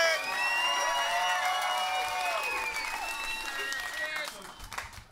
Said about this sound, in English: Thank you for clapping until you saw me.